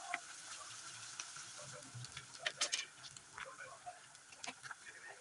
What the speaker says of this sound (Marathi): 1 टेबलस्पून खिसलेलं आलं, 2 बारीक चिरलेल्या हिरव्या मिरच्या, कच्चा वास निघेपर्यंत व्यवस्थित तेलात भाजून घ्यायचं आहे.